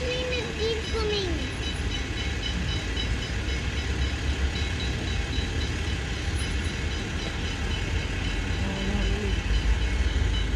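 A train rolls past at a metro Melbourne station, a steady loud rumble with rail squeal running the whole time, and a voice chatters over it.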